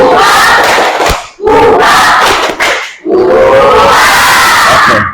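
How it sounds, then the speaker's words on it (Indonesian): A classroom of students shouts the 'tepuk semangat' clapping chant together in loud group bursts with brief pauses between phrases. "Kita coba sama-sama tepuk semangat."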